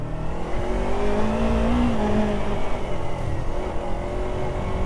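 Yamaha R3 motorcycle engine droning steadily while riding, a continuous close rumble with a slight rise in pitch partway through and wind noise mixed in, with no talking.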